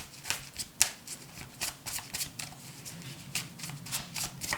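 Tarot cards are shuffled up close in a quick run of crisp riffling and slapping bursts with no talking.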